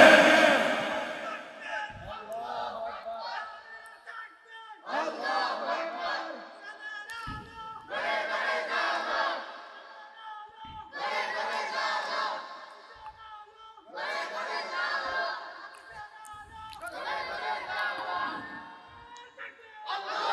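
A crowd of worshippers at a religious gathering shouts takbir in about six loud, surging chanted bursts separated by short pauses, the many voices blending into a roaring, echoing mass.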